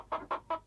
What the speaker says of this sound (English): It sounds as though a hen has just laid an egg.